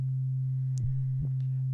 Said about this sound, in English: So here's a sine wave, and we've got an all-pass filter on the first channel.